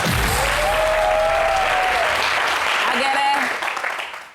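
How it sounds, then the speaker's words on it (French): Dense audience applause for Baoulé dancers at a village celebration, steady and loud throughout with cheering voices mixed in before tapering at the end. "On applaudit pour les Baoulés, non?"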